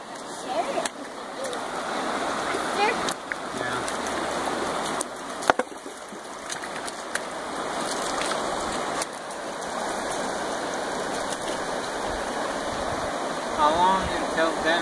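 Creek water flows in a continuous broad rushing wash outdoors, steady and fairly close, with a few faint knocks over it.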